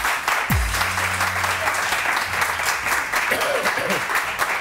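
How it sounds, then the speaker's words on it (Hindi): Studio audience applause on a Pakistani morning TV show, a steady dense wash of clapping filling the whole stretch, loud and close, with a brief low thump near the start. "तालियां।"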